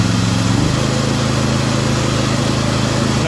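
Honda EG2800i inverter generator running loud and steady as it revs up under a table saw load, a continuous droning engine hum with a step up in pitch early on, no talking.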